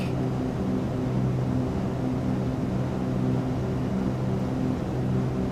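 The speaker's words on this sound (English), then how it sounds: "Engines are a little bit out of sync." Twin engines of a Cessna 310R in Microsoft Flight Simulator drone steadily and loudly, their slightly mismatched propeller tones producing a continuous beating hum with no pauses throughout.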